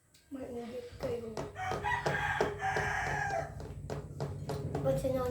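A rooster crows loudly and close by on a farm, its long drawn-out call rising and holding, with people talking faintly underneath and around it.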